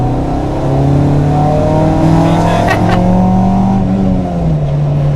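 A Honda Civic EG hatchback engine revs while downshifting at speed, a loud, steady engine drone with rising and falling pitch and a sharp blip of revs, heard from inside the car with road noise.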